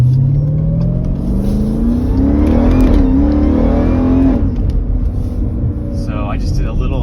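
A stage 2 tuned car pulls hard up to about 60 on a cold day, the engine note climbing steadily in pitch for several seconds and then easing into a steady cruise, with a voice talking over the drive.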